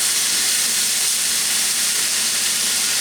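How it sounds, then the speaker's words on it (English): Meat sears on a Curtis Stone grill pan with a continuous, close hissing sizzle that holds steady throughout, with no voices. "Nice sear on that. You hear that?"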